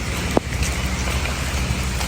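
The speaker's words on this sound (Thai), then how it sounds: "ฝนตกนะครับ" Steady rain falls along a forest trail to Kong Kaeo waterfall in Khao Yai, a dense, even patter close around, with one brief knock early on and no talking.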